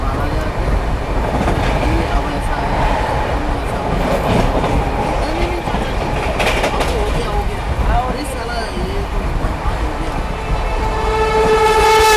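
The Magadh Express passing at speed near Aligarh, heard from aboard another train: steady loud rail rumble and clatter with a horn toward the end, under someone talking.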